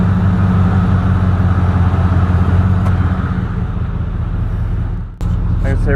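Ford F-150 with a 5.0L V8 and an AirAid intake, its exhaust rumbling in a deep steady idle close by, dipping briefly near the end before resuming, with a short voice at the close.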